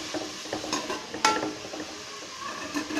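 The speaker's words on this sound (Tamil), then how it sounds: "கேரட் சேர்த்துட்டு ஒரு 2 நிமிஷம் நல்லா கேரட் வதக்கி விட்டுக்கோங்க" Grated carrot being sautéed and stirred in a pan for carrot halwa, a steady soft sizzle with scraping stirs and one brief metallic clink of a utensil, no speech.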